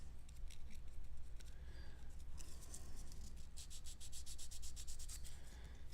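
Quiet rhythmic rubbing of sandpaper by hand, close, with rapid back-and-forth strokes that speed up toward the end.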